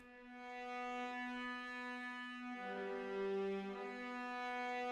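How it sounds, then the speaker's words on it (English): Violas play a very simple legato melody line in an orchestral remix of Metroid's Kraid's Lair, with long sustained notes that shift pitch smoothly midway, soft and alone. "first giving a very simple extra melody line to the violas playing legato"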